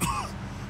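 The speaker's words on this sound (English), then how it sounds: "Every time I cough, it feels like I'm being stabbed in the chest" A male character in the video game Mafia 2 gives one brief, rough cough like a throat clearing, loud and close, then it quickly fades into quiet.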